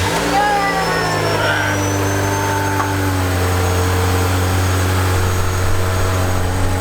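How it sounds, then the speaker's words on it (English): A Ferrari engine cold-starting after sitting for nine years idles steadily, with a strong low hum and rising and falling tonal whine, loud and close, under a voice speaking. "there's your cold start on a car that's been sitting for 9 years"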